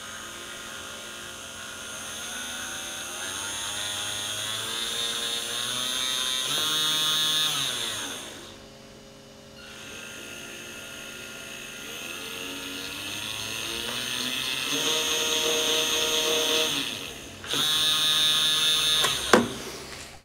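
Remote-controlled drive motors on a robot prop whine steadily at changing speeds, dipping to near silence, then ramping back up and abruptly shifting pitch as the speed controllers adjust and reverse them.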